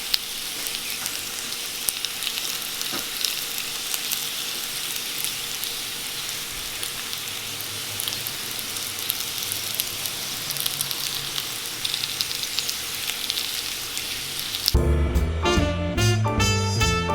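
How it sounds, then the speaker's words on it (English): Potatoes seasoned with onion salt sizzle steadily in butter in a skillet, a loud, even frying crackle that runs unbroken for about fifteen seconds before music takes over. "Meanwhile, we got our potatoes on the skillet. I added a little bit of butter so they can brown nicely."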